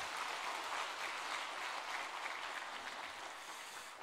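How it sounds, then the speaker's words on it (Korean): Steady, dense applause from a church congregation at a special early-morning prayer service, an even wash of clapping that holds for the whole stretch with no voices over it. "건강하시라고 우리 박수 한 번 더 하겠습니다."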